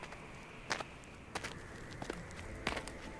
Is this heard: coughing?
no